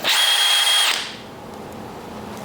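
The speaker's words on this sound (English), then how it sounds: "makes a really good pilot for a 1/4-inch drill bit" A power drill with a 1/4-inch bit drills out a rounded-off Phillips trim screw on a 1970 Chevrolet El Camino, giving a steady high whine for about a second before spinning down into quiet shop ambience.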